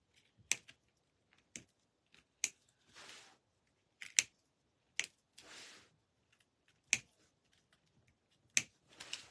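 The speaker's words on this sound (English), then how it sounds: "So I'll just gonna clip the zip tie tails off." Sharp, crisp snips of cutters clipping zip tie tails on a DIY bee flower wreath, a dozen or so isolated clicks at uneven intervals with soft rustling between, close and quiet.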